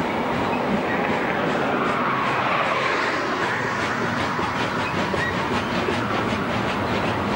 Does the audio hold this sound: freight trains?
yes